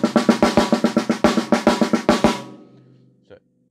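Drum pattern played as a quick, steady run of loud, close snare and tom hits with ringing wash that fades out, then a single faint tap.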